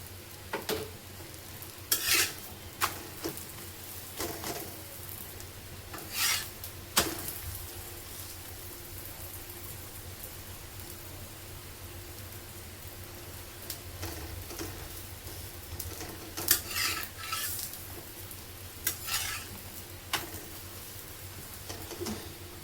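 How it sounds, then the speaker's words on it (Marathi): Puran poli cooking in ghee on a griddle, a soft continuous sizzle and crackle with scattered sharper pops and occasional scraping taps, steady and close throughout with no talk. "पुरणपोळीवर आपण घी सोडून घेऊया थोडं"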